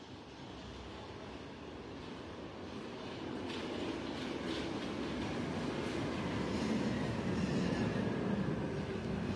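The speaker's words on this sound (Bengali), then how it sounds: "এটি প্যারিসের অ্যাবিসেস মেট্রো স্টেশন।" A Paris metro train rumbles through Abbesses station, a broad steady roar that swells louder over several seconds and then holds, with faint rail clatter on top.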